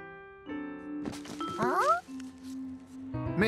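A cartoon cat meows a few times, short rising cries over soft background music and a gentle chime.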